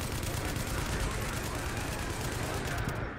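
Enemy gunfire in The Division video game, a dense continuous rattle of automatic shots close by, with a voice talking over it.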